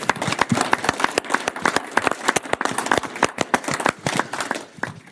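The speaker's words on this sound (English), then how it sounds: "please give her a round of applause" Audience at a soil health conference panel applauding, a dense burst of clapping from many hands that carries on for several seconds.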